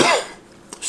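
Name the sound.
cough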